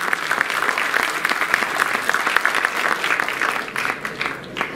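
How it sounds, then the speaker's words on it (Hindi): Audience at a foundation event clapping loudly to welcome the chief guest, dense steady applause from a crowd lasting several seconds before tapering slightly. "आप सबसे गुजारिश करता हूँ जोरदार तालियों से उनका स्वागत अभिनंदन करें"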